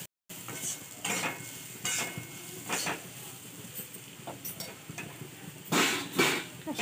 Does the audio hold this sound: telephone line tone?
no